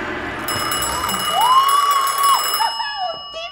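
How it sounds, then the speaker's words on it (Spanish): An old telephone rings in a bright, sustained electric bell tone rising out of quiet room sound, a single ring lasting about a second before fading. "¡El teléfono!"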